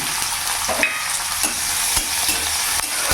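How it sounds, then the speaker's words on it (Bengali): Dried red chillies and crushed garlic fry in hot refined oil with a dense, continuous sizzle, broken by repeated scraping and stirring strokes of a spatula in the pan. "শুকনো লঙ্কা ফোড়নে দিয়ে দিলাম, আর এখানে রসুন থেতো করা"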